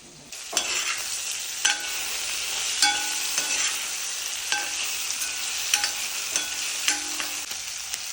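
Spices and ingredients for a Kerala-style chilli fish curry fry lightly in a pan, a steady sizzle broken by regular sharp spatula scrapes and taps, close and clear with no speech.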